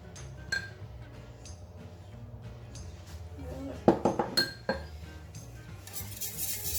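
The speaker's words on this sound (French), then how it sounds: "On touille." Spoon stirring cocoa into a mixture in a bowl, a quiet start followed by a burst of clinking and scraping strokes against the bowl, close and fairly loud.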